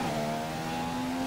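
A Formula 1 car engine in the F1 2015 racing game on the Hungary circuit, held at a steady high-pitched drone under throttle with a strong tonal whine, loud and alone for about a second.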